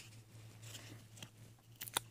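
Scissors snip through sticky tape in a quiet room, a few faint crunching cuts ending in a sharper, brighter snip, with no voices.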